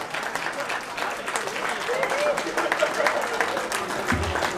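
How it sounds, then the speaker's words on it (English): Wedding guests clap for a volunteer at a mind-reading act, a moderate crowd applause that builds slightly midway, with voices and cheering mixed under it. "Give that man a round of applause for being brave and bold."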